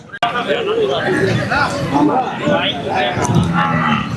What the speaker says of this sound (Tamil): இந்த மாடு தான் அந்தியூர்ல இருந்து கொண்டு வந்திருக்காங்க.